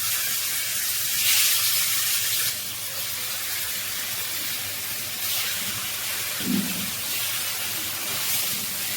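Food fries in hot oil in a pan, a steady soft sizzle and hiss with faint surges, heard alone and fairly close.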